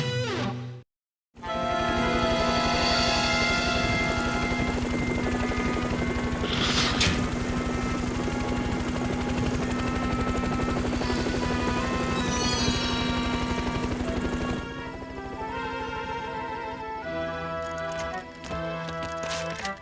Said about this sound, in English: We've got a chopper waiting.